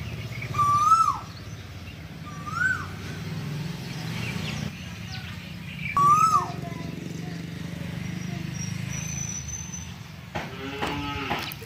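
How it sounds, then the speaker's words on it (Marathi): Koel birds call outdoors around a house, giving about three clear rising calls at moderate distance over a low steady hum. A voice is heard briefly near the end. "एक इकडं कोकिळे, एक तिकडं आहे"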